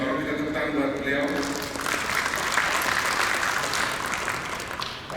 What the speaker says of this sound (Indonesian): Pak Pramudia Iriawan Butoro, kita tepuk tangan buat beliau.